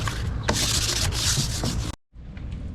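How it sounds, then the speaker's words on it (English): Hand sanding on a forged carbon fiber fender patch, a steady abrasive rubbing close up that runs continuously for about two seconds, stops abruptly, then resumes more quietly. "Right now I'm just touching up where I sanded too deep."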